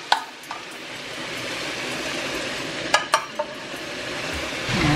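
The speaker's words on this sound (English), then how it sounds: "So I'm going to add my meatballs and" Homemade meatballs and onions fry in a pan with a soft, steady sizzle, punctuated by a few sharp clinks of a utensil against the pan and stirring noise at the close.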